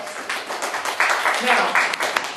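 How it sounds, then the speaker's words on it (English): Classroom of students clapping for a classmate's pledge, a brief patter of claps with louder bursts, while speech continues over it. "Give him a round of applause"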